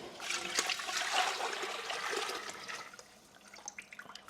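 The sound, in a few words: pouring beef bone broth into a pot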